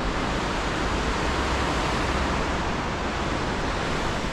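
Strong wind and rushing river water near an old footbridge in Verona, Italy, form a loud, dense, unbroken roar that fills the whole clip with no voices.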